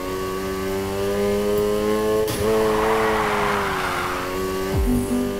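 A car in the racing game Need for Speed Heat drifts and accelerates. The engine is loud and sustained, with shifting revs, tire squeal and a brief impact-like burst, and there are no voices.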